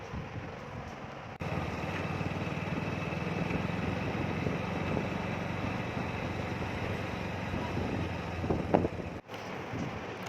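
Vehicle racing along a road in third gear, a steady loud engine drone mixed with wind rush that holds constant for most of the stretch before briefly cutting out near the end.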